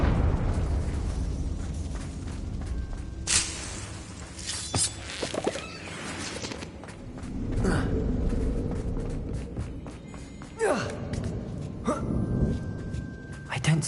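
The Confringo spell explodes in Hogwarts Legacy inside an abandoned mine tomb, several loud blasts and bursting impacts amid game ambience, with a character speaking between them.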